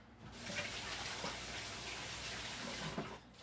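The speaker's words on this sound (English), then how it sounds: "I'm gonna just give my hands a quick wash" Running tap water splashing steadily into a sink while hands are washed, a close continuous rushing stream with small fluctuations, ending abruptly.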